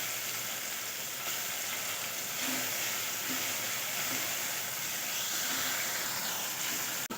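Chopped onion and tomato softening in a pan sizzle steadily with a soft, continuous frying hiss, close and fairly quiet, with occasional faint stirring and no voices.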